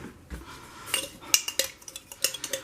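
A spoon scrapes and taps against a container, with a run of sharp metallic clinks and scrapes growing busier toward the end, close and fairly quiet, no voices.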